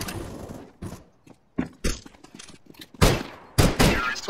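Sharp bursts of gunfire in the shooter game CS:GO, several single shots followed by two louder blasts near the end, with game clatter between them.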